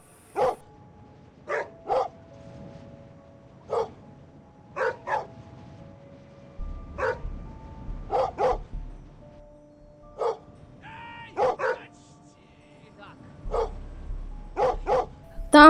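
An enlarged dog in the video game Schoolboy Runaway barks in short, sharp, separate yaps spaced irregularly across the stretch, each clear against a quiet background, with brief game sounds in between.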